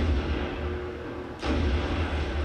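An explosion in Halo: Combat Evolved, a sudden broad blast bursting out over a steady rumbling game background, then lingering noise.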